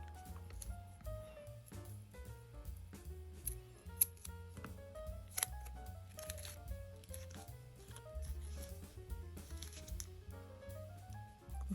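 Scissors snip through a long Happy Birthday masking tape in a quiet room, a series of crisp, close cuts and paper rustles with soft handling noises between them.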